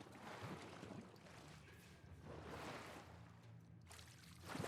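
Splashing footsteps wade through water in The Last of Us Part I, a continuous sloshing churn close by with a few sharper splashes rising out of it, fairly faint overall.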